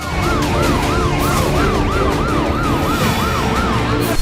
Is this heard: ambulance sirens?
yes